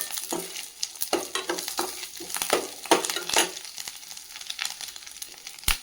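Slit green chillies dropped into a hot pan for poori masala, crackling and sizzling with sharp sputtering pops and stirring scrapes over a continuous frying hiss.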